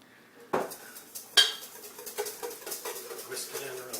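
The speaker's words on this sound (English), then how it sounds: "Whisk it in real good." Spices of salt, pepper and cayenne being whisked into hollandaise sauce, a metal whisk clinking rapidly against a bowl in quick repeated taps after a couple of louder knocks, close and clear.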